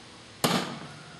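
A hammer strikes a metal punch laid on a piece of fuel tubing, giving one sharp, close, loud impact with a short ringing decay.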